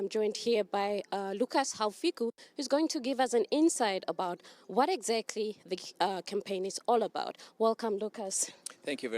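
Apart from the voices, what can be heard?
No everyday noise stands out behind the speech.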